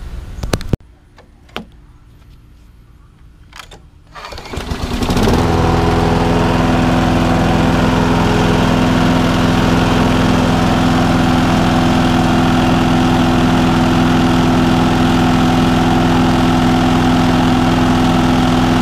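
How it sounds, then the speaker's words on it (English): A Craftsman 21-inch lawn mower, its carburetor just cleaned, comes to life after a few clicks and a quiet stretch, then holds a loud, steady droning run close by until the end. "Let's go try and start this before it pisses out any more gas."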